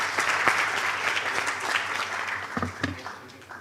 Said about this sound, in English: Please give a huge round of applause to Dr. Adil Haider, Dean of Medical College.